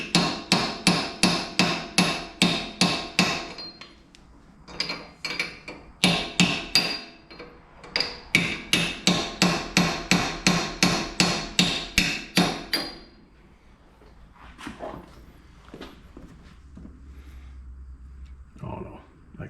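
A hammer strikes a chisel splitting a car part in fast, steady runs of sharp metallic blows, loud and close, pausing between bursts before quieter shuffling.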